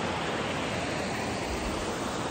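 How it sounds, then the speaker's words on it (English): A small waterfall and rapids on a stream rush with a steady, full, close roar that never lets up, with no voices over it. "A little waterfall."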